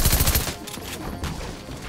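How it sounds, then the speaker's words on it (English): Rapid bursts of gunfire from a Fortnite match hammer out in dense, loud volleys for a couple of seconds. "This guy loves shooting at me."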